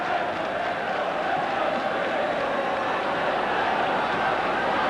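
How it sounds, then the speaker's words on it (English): Southampton football supporters cheer and roar at a match against Liverpool, a dense, steady crowd noise filling the whole stadium without a break. "Southampton fans making their appreciation heard"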